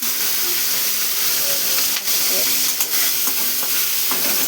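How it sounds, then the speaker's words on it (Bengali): Black cumin seeds hit hot mustard oil in a pan and sizzle loudly and steadily at close range. A few faint stirring scrapes break through the constant hiss. "সর্ষের তেলে কোনো কারণ, তেলটা গরম হয়ে গেছে, দিয়ে দিলাম কালো জিরে"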